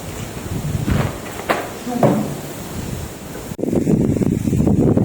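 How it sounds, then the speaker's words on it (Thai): Wind gusts outdoors at a hillside site in Chom Bueng, Ratchaburi, rushing and roaring steadily against the microphone, growing louder and fuller toward the end. "วันนี้นะค รับก็ลมเย็นสบายนะครับ"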